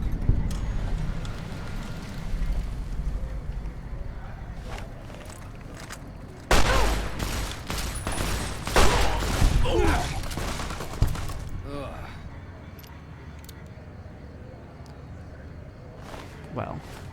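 Gunfire in Fallout: New Vegas, a burst of several loud bangs and booms crowding the middle of the clip, set against steady game ambience and a talking voice that runs throughout.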